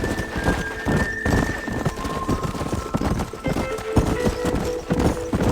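Horse galloping in the video game Red Dead Redemption, a steady, dense drumming of hooves with a neigh, loud and continuous under game sounds.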